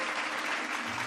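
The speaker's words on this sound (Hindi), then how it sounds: "पूरा महल तालियों से गूंज उठा।" Applause fills a palace after a dance, a brief, steady burst of dense clapping from a large crowd at even loudness throughout.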